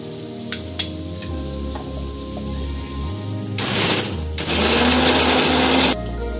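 A mixer grinder blending black mustard seeds, garlic, green chili, cashews and coconut into a paste: a steady low motor hum swells into two loud, rough whirring bursts of grinding, then drops back to a hum.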